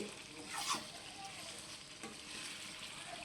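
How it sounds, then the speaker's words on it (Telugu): Masala spices fry in oil on medium flame for a chicken fry, a soft continuous sizzle with faint stirring scrapes close by, quiet and steady throughout. "ఈ నూనెలో ఈ మసాలా బాగా వేపుకోవాలి ఈ మసాలా వేసినప్పుడు ఇలా వేపుకుంటూ ఉండాలండి"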